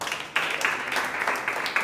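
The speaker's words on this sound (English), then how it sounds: "A round of applause for Rotarian Lola." An audience at an interschool debate competition gives a round of applause, a short burst of scattered clapping heard at moderate distance.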